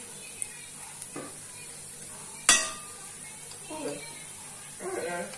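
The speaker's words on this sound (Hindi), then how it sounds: "आधा छोटा सा चम्मच मैंने अदरक लहसुन का पेस्ट डाला है और इसको हम भून लेंगे" Onions with a spoonful of homemade ginger-garlic paste fry in a pan for Punjabi chole dal, giving a steady close hiss of sizzling, broken by one sharp utensil clink and some faint stirring, with soft voice sounds in the background.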